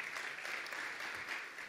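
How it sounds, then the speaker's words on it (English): An audience at the 2019 Tempe Mayor's Disability Awards applauds an Employee of the Year honoree, a steady wash of many hands clapping, soft and somewhat distant throughout with no talk over it. "So let's give Joseph a great round of applause for Employee of the Year."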